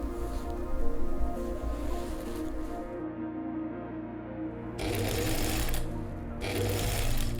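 A sewing machine stitches slippery dress fabric in a steady, close mechanical whir, with a brief lull partway through before it speeds up again.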